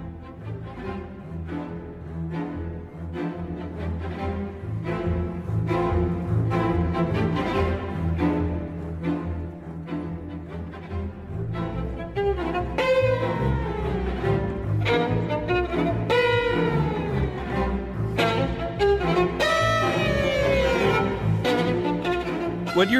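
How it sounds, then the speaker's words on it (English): Astor Piazzolla's The Four Seasons of Buenos Aires plays in a performance for solo violin and string orchestra, with rhythmic, accented string chords and a soaring, expressive violin line rising above them, full and continuous throughout, with no talking. "What you're hearing is Astor Piazzolla's The Four Seasons of Buenos Aires"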